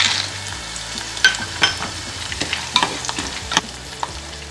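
Garlic and peanuts fry in a pan, giving a steady loud sizzle with scattered clicks and scrapes from stirring, near and with no voices.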